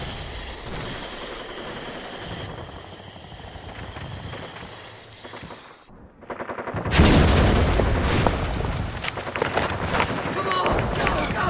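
Gunfire crackles through a WWI battle scene, first as a dense background of shots, then as a louder burst of rapid machine-gun and rifle fire after a brief pause, with voices shouting over it.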